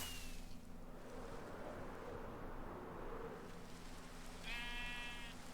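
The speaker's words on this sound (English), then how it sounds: "Hi, sheep." Minecraft sheep giving one short bleat near the end, over a steady low ambient hum of the game world; otherwise no distinct sounds.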